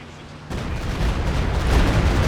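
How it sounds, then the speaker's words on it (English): A Walking Stuka rocket artillery barrage in Company of Heroes 2 erupts suddenly into a loud, sustained rumbling roar of overlapping blasts that keeps building. "Another walking Stuka."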